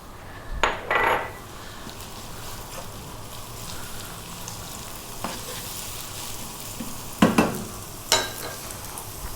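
Onion, ginger and garlic fry in corn oil for a Thai seafood curry, a steady low sizzle with a few louder bursts of hissing and pan clatter as the aromatics hit the hot pan.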